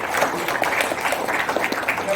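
Audience applause at a motivational seminar in Surabaya, a dense steady patter of many hands clapping throughout, with some voices mixed in.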